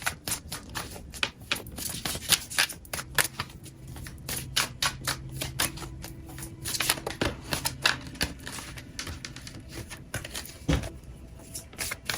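Tarot cards are shuffled by hand in a quiet room, giving irregular bursts of crisp riffling and soft slaps that come close up and keep going throughout, with no voice.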